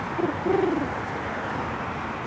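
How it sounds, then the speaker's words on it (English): A soft, brief pigeon coo rises twice over steady outdoor background noise on a New York City promenade at sunrise, fairly faint and somewhat distant. "I see some pigeons."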